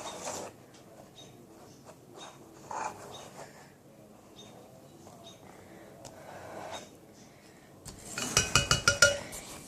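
A utensil stirs baking soda into a floam slime mixture in a bowl, with quiet intermittent scraping and then a run of sharp, rhythmic clinks near the end.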